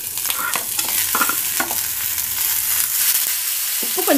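Onions and tomatoes sauté in a pan with a little salt for a country chicken kurma, a dense, loud sizzle broken by repeated spoon scrapes and stirring knocks, with no talking.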